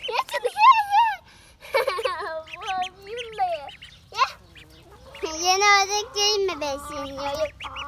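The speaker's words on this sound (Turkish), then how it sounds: "Marul'la besliyor ördeklerimizi." Pet ducks quack in short, nasal bursts close by while being fed lettuce in a backyard coop, with children talking over and between the calls.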